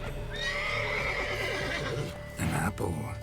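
A horse whinnies in a long, wavering call in The Witcher 3: Blood and Wine, followed by snorting and shuffling, with the game soundtrack humming underneath.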